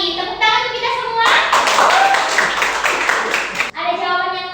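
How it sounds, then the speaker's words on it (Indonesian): Students clap together in a short burst during a classroom lesson, loud and close for a couple of seconds between stretches of a teacher and children speaking. "Tepuk tangan untuk kita semua."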